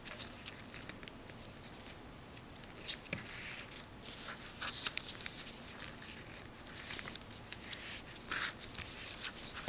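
Scissors snipping paper for an origami bow tie, a run of close crisp cuts and rustling of paper, fairly quiet and irregular.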